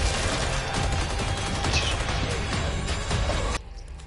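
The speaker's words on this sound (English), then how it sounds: "He just shot me though." Dense, continuous bursts of video game gunfire rattle for several seconds like a sustained firefight, loud and busy, then cut off abruptly near the end, leaving a quieter tail.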